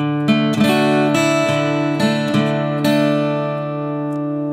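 Acoustic guitar playing part of a song: a fingerpicked pattern of clear, ringing notes with sharp plucked attacks, close and alone, the final chord left to ring and fade.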